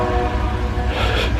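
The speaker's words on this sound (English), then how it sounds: "Train scared me. Holy jump scare." Train horn blasts from a passing train near the salmon-filled waterside in Skagway, Alaska, a loud, sustained low tonal blare holding steady and rumbling throughout, with no talking.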